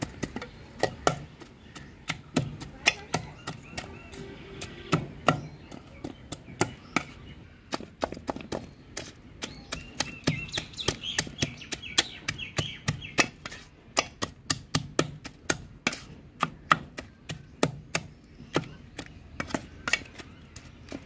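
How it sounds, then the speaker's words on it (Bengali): Washed prawns are pounded with a flat grinding stone inside a metal pot, producing sharp, close knocks in irregular bursts of quick strikes with short pauses, loud and alone without talk. "এখন এই যে একটা শিল দিয়ে এইভাবে পাতিলের মধ্যে বাড়ি দিব"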